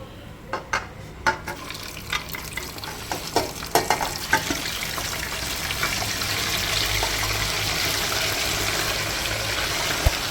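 Prawns fry in oil for pickle, a steady sizzle that swells and thickens over time, with a series of sharp utensil clinks and scrapes against the pan near the start, close and without talk.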